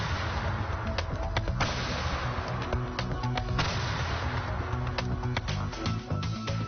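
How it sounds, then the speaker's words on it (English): Black powder cannon fire, a rapid run of sharp cracks and booms over a dense, rumbling background that stays loud throughout. "even on its own, it still makes firing a cannon a real blast"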